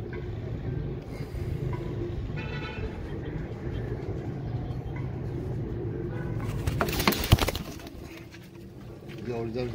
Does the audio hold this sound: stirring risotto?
no